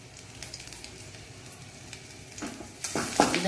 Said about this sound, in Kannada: ಇನ್ನು ಒಗ್ಗರಣೆಯ ಸೊಪ್ಪನ್ನು ಸ್ವಲ್ಪ ಸರಿ ಕ್ರಷ್ ಮಾಡ್ಕೊಂಡು ಹಾಕೊಳ್ಳೋಣ.